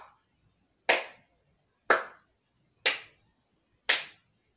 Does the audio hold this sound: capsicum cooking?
no